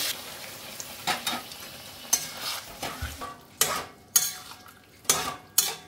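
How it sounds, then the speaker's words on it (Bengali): Spices sizzle in a hot pan while preparing vegetarian sago khichuri, stirred with sharp intermittent scrapes and clanks of a spoon against the metal, close and fairly loud, roughly one stroke each second. "এবার আমি এভাবে কষতে থাকবো। এখানে গরম জল আছে, আমি এখান থেকে একটু গরম জল দিয়ে দেবো।"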